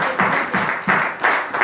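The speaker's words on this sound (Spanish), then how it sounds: "Denle un aplauso al que vive y reina para siempre" A church congregation claps together in a steady rhythm, about three loud beats per second of close, bright group clapping with no voices.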